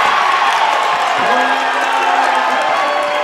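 Crowd at a men's college basketball game cheering and whooping after a dunk, a loud, dense roar sustained throughout with a rising whistle-like tone partway through.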